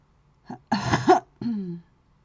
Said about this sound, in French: désolé, je tousse encore